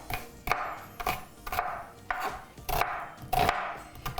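A knife chops onion on a board, eight or so crisp, regular strikes about half a second apart, close and clear with no talk.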